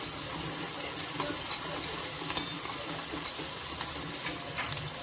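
Chopped onions fry in a pan for gobi manchurian with a soft, continuous sizzle and occasional light stirring clicks, moderately quiet, with no voices.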